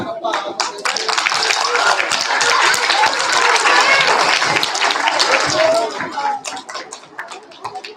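Children and families clap at a kindergarten and first-grade school awards assembly: loud, sustained applause that fills most of the clip, mixed with crowd chatter and shouts, then thins out near the end.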